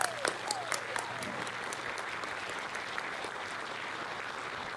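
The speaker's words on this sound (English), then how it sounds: "Another round of applause for all of you." Steady applause from an audience at a school board of education public session, honouring students; dense continuous clapping at moderate level with a few sharper claps near the start and faint voices underneath.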